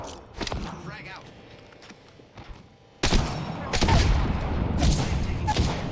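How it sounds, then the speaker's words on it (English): Gunfire in a first-person shooter video game: scattered sharp shots at first, then a loud stretch of rapid overlapping bursts close up. "I'm taking fire, friends."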